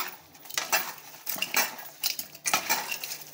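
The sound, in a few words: washing and stirring raw prawns in a bowl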